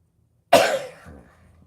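A single sharp, close cough bursts out after a moment of silence, then trails off quickly into quiet.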